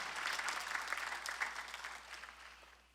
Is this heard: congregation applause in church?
yes